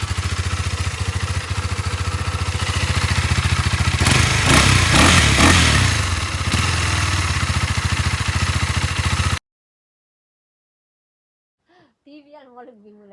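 A motorcycle engine with its stock exhaust runs steadily up close, swells louder in a brief rev partway through, then cuts off abruptly into silence before a voice speaks at the end.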